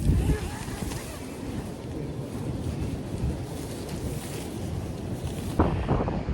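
Strong, blustery wind at a campsite roars across the microphone around 15 miles an hour in a constant, rumbling rush with gusts swelling and easing, loud and close, with no talking over it.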